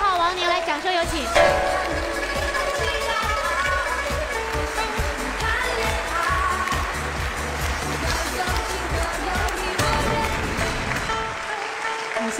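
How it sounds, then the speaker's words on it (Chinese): An audience in a Chinese dating-show studio claps loudly and continuously for a contestant's entrance, a dense sustained applause with a voice faintly present beneath it. "来，掌声有请"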